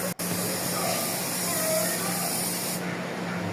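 A spray gun paints a Toyota Wigo car panel during a retouch job, a loud, steady, close hiss that runs continuously before cutting off near the end.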